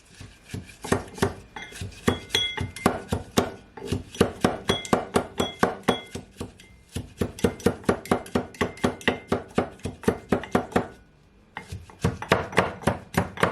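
Fresh mint leaves squashed down in a drinking glass with a muddler, a long run of rapid, rhythmic knocking and clinking strokes, close and fairly loud, pausing briefly twice.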